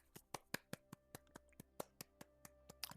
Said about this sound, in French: Je pense qu'on peut s'applaudir.